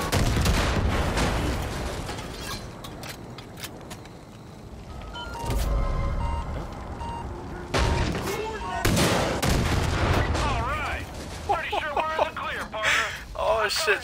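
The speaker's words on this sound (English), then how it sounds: "Rocket launcher." Far Cry 5 combat with rocket launcher blasts and rapid gunfire, heavy booms and bursts of shots, loud and close, with voices talking over the action.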